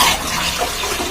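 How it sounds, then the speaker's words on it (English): Water runs into a toilet flush tank that is filling slowly, a soft steady hiss and trickle, heard close and alone for a brief moment. "because the flush tank is filling slowly."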